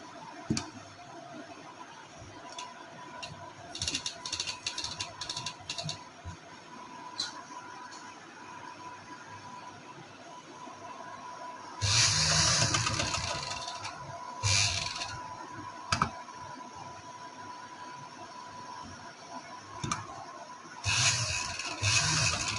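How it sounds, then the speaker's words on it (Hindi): Sewing machine stitching lace onto the neckline of a kameez, heard as bursts of mechanical whirring and rattling stitches separated by quieter pauses, moderately close with no talking. "ये हम अब यहाँ से इसे कमीज के साथ अटैच करेंगे, जोड़ देंगे मशीन की सिलाई के साथ ही।"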